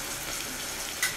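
Garlic frying briefly in a hot pan for a vegetable corn pulao, giving a steady soft sizzle throughout the short moment, with a small clink near the end and no talking.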